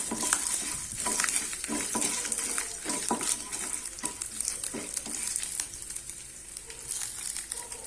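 Garlic cloves and chopped ginger frying in a pan for Chettinad kara chutney, a close crackling sizzle broken by spatula stirs and scrapes that fades slightly toward the end, with no voices.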